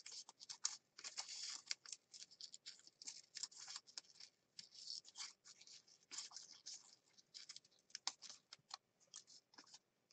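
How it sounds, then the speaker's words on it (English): Scissors loosely fussy-cutting a paper image out for a mixed media junk journal, making faint, irregular crisp snips and scratchy rustles that come in uneven bursts with brief pauses. "just kind of loosely fussy cut this out"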